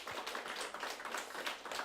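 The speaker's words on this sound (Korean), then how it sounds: "같이 박수를" A church congregation claps together at a health lecture, a soft, steady patter of many hands heard from a distance at low volume.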